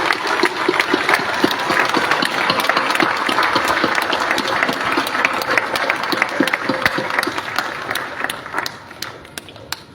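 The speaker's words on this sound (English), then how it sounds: "I would invite all of you to give a big round of applause to all students" At a business school graduation ceremony, the audience gives a long round of applause for the graduating students, a loud, dense patter of clapping that carries on for about ten seconds and tapers off gradually near the end.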